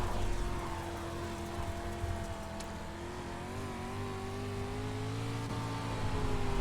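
Dirt street stock race car in the iRacing sim at Limaland, its engine droning steadily with rising and falling harmonic tones as the throttle changes, loud and continuous throughout with no talk.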